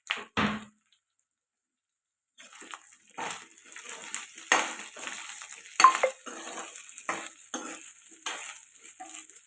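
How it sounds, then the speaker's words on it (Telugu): Washed okra pieces are stirred into a pan of frying ginger garlic paste, producing bursts of sizzle and scraping after a brief clatter and a short silence. "ఇప్పుడు ముందుగా కడిగి పెట్టుకున్న బెండకాయ ముక్కలు వేసేసుకున్నాం."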